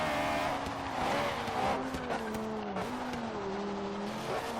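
A K20-swapped Honda Integra race car in Forza Horizon 3 spins its wheels: the engine drones at a steady high pitch while tire squeal wavers on top, close and continuous throughout.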